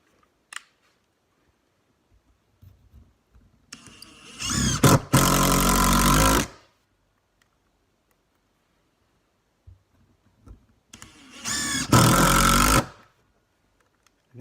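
A Ryobi brushless cordless power tool is run in two separate bursts during a speed test. Each time a short whir rises into a loud, steady high-pitched motor whine that lasts a second or two, then cuts off cleanly, with faint clicks in between.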